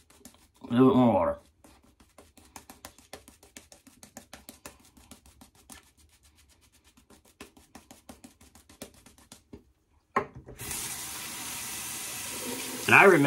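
Tap water running during a wet shave, a steady broadband rush that starts abruptly near the end after a quieter stretch of light clicking and handling sounds, with a brief louder burst of activity at the start.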